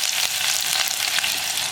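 Chopped ginger sizzling in hot oil with fenugreek and dried red chilli for a Kerala curd curry, a steady, close, dense frying crackle that runs unbroken without any talk.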